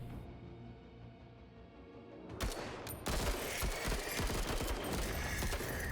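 Squad gunfire in the tactical video game Menace: after a quiet hum, a sharp shot cracks out, then sustained rapid volleys of automatic fire continue loudly to the end, with no talking.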